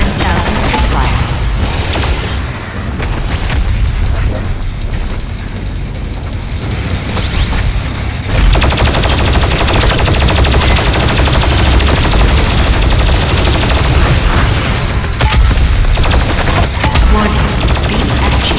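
The BFG 10,000 in Doom Eternal fires amid heavy game combat, dense rapid blasts and mechanical clatter running loud and continuous, with a sharp surge partway through.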